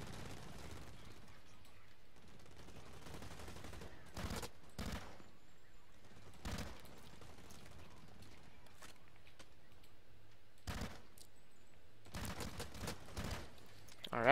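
Gunfire in the shooter Blacklight Retribution comes as several short, fairly faint bursts scattered through a quiet stretch of gameplay, some shots clustered close together near the end.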